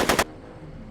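A brief, loud burst of rapid gunfire in the video game Back To The Future, three quick shots in under a quarter second followed by a fading ring.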